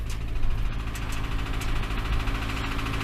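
A Ford Transit van with a knocking noise idles, its engine running in a steady low rumble with a faint rhythmic knock, close and continuous, with no one talking.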